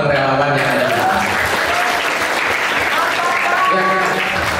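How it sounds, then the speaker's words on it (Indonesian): Steady applause from a crowd at a school earthquake simulation drill, thanking volunteers, fills the whole stretch while a voice keeps talking over the clapping. "kita kasih tepuk tangan buat teman relawan yang ada di atas"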